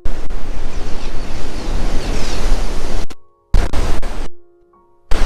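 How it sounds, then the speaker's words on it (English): Big ocean waves at high tide crash in a loud, continuous roar of surf, then cut off abruptly into short silences broken by brief bursts of wave noise. "the waves behind me are pretty darn big"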